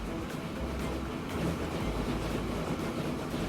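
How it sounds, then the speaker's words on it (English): Trains roll into a station in the Train Fever game, a low, rumbling, rolling drone with faint rhythmic clatter that swells slightly midway, steady and without speech. "We've got an old train and a new train coming into the station"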